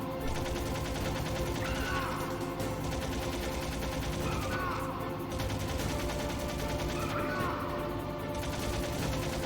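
Gunshots fired at Liquid in Metal Gear Solid: a dense, continuous rattle of rapid shots under a droning, busy game soundscape, with a few brighter bursts standing out at a steady medium loudness.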